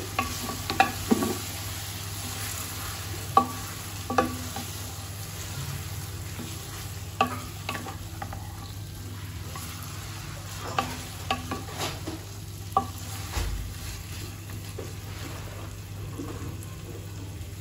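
Beef is stirred with spices in a pan for beef tehari, with a quiet, steady sizzle broken by intermittent scrapes and taps of a spoon against the pan and a low background hum.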